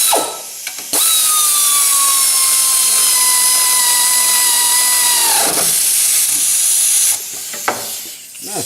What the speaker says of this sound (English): You just retighten your bolt and nut down here.